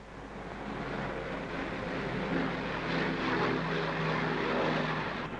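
A Royal Air Force propeller aircraft engine drones steadily and loudly at a constant pitch, a continuous throbbing roar with no talking.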